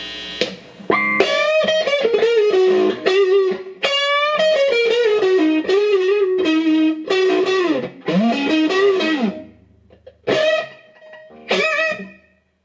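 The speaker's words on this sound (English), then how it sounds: "it's almost like having a boost pedal or like a distortion pedal, fuzz pedal on tap" A heavily distorted, fuzz-like electric guitar, a Black Limba Stratocaster through a Zoom R24, plays a melodic phrase with bending, sustained notes and short gaps, thick and buzzy, with no voices.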